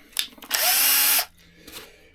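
A cordless drill with its clutch set around 13 to 14 drives a screw in one smooth, loud whir lasting under a second, starting and stopping abruptly, with faint handling sounds around it.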